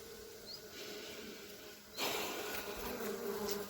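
A steady, dense buzzing of many honeybees at a hive disturbed during inspection, swelling noticeably louder halfway through, close by and continuous with no voices.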